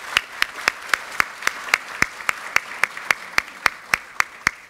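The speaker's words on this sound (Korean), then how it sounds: "박수 한번 보내주시면 고맙겠습니다" Rhythmic unison clapping at a political party meeting, sharp evenly spaced claps repeating about three times per second, crisp and fairly loud with a faint crowd murmur underneath.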